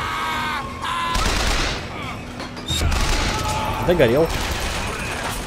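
Gunfire in the video game Bioshock Infinite: rapid, overlapping bursts of shots crackle through the scene while a voice talks over the action.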